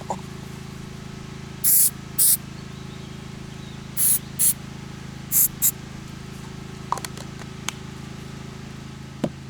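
Several short hissing bursts of activator spray onto super glue, in quick pairs with pauses between, close and loud over a low steady background hum, with a few faint clicks after them.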